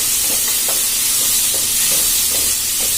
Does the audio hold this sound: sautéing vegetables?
yes